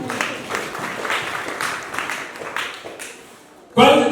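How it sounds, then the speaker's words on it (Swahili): A church congregation at a Holy Spirit seminar led by a bishop breaks into a short, loud burst of clapping right at the end, following a stretch of a preacher's voice. "Piga Yesu makofi hapo"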